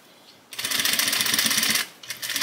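A Juki sewing machine stitches along the edge of a men's suit jacket being upcycled. A fast, steady mechanical chatter runs close and loud for over a second, pauses briefly, then starts again.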